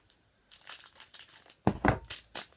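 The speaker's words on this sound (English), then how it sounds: "Get the trusty scissors going." Scissors cut open sports trading card packs, with sharp crinkling and tearing of the foil wrappers coming in short bursts, the loudest crackles near the end.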